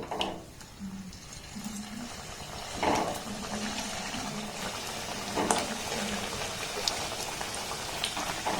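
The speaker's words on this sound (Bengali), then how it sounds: "এবার এগুলোকে আমি তেলের মধ্যে দিয়ে ভেজে নেব" Coconut snacks deep-fry in hot oil in a wok over a low to medium gas flame, making a continuous bubbling crackle with a few louder pops and spits.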